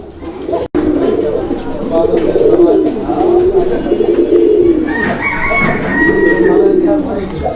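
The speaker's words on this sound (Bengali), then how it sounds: "এটা ডাকটা আপনাদেরকে দেখাই দিলাম যে কবুতরটা কি পরিমাণ ডাকে" A Giachulli pigeon calling loudly and repeatedly close up, its rolling coos continuing for several seconds, with other birds and faint voices around.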